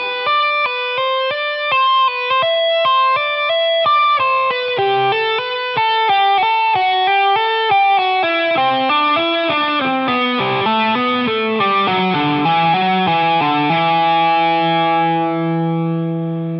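A distorted electric guitar plays a smooth, flowing legato run of quick connected notes descending in pitch, with slight echo, ending on a sustained note.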